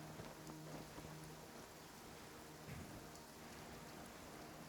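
Rain falls steadily in a rainforest in the video game Genshin Impact, a soft, continuous patter of drops at low volume with no voices.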